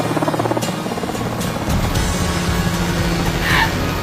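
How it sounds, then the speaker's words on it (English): Helicopters lift off with a loud pulsing rotor chop and a heavy engine drone, the beating rhythm close and continuous, rising in intensity partway through without any talk. "Load the helicopters and fly them out."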